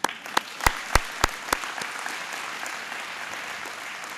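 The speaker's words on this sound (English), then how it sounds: "I think that needs to be applauded." A room of people at a senior citizenship awards ceremony claps for the honorees: a few loud, separate claps open, then they settle into sustained, even applause from the whole audience.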